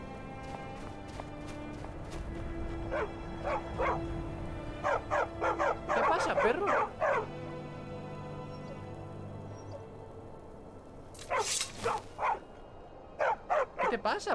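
Dog in the video game Skyrim barking repeatedly in short bursts, with a few higher yips and whimpers, fairly close over a low ambient game drone, with occasional speech in between.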